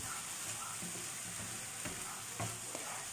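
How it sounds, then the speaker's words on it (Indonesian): Squid meatballs and shrimp stir-fry in a pan with a steady sizzle and scattered clinks and scrapes of stirring, fairly faint and close, with no voices. "Nah ini aku langsung campurin bakso, ini tuh bakso cumi ya teman-teman"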